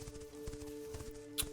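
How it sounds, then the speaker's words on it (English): Rhythmic hoof clip-clop of a horse galloping in the distance near a house driveway, a light, steady patter of beats with a steady hum underneath and no talk. "like a horse galloping in the distance, coming from around the front of the house, coming from the driveway"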